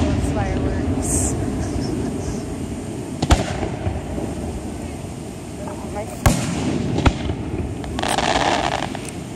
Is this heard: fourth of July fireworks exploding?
yes